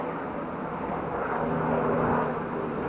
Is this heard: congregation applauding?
no